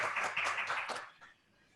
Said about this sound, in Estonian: nüüd võime meie ju plaksutada jälle, kes me siin saalis 10 oleme